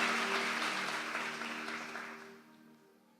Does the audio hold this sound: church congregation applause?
yes